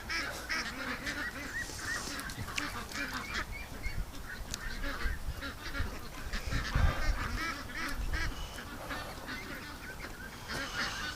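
Ducks, including sick botulism-affected birds near a bathtub, give off repeated honking quacks in scattered bursts, moderately close over a constant outdoor background, with no talking.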